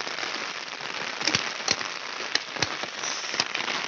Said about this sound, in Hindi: बारिश इतनी ज़ोर से आ रही है ना